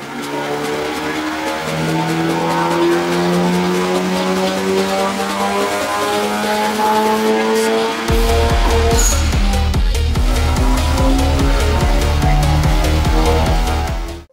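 A modified Honda Civic Type R FK8 on stock ECU revs hard on test, a loud, sustained engine drone climbing through rising pitch sweeps, then dropping into a deeper, steady pulsing roar partway through.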